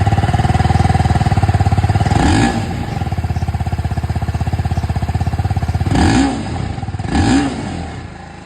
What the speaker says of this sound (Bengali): আর এবার আপনাদেরকে আমি এখানে RTR 310-এর যে এক্সস্ট সাউন্ড,